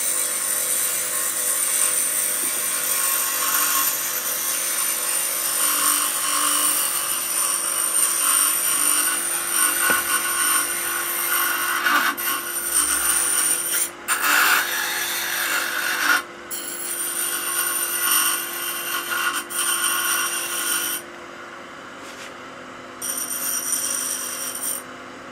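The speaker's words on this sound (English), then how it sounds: "Now you can switch off the grinder" Grinder working a welded joint from a micro butt welder, a steady harsh abrasive whine with rubbing and rasping texture sustained for a long stretch, briefly dipping and cutting out near the end, no talk.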